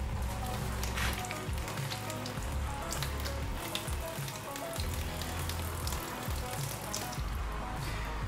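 Water from a small pump runs into a trailer sink fed by two 6-gallon tanks, giving a steady hiss and splash that carries on close and continuous.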